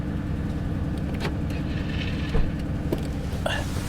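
A 2004 Pontiac Grand Prix GT's engine runs at a steady, rough idle, a low continuous rumble with a few faint knocks and clicks over it.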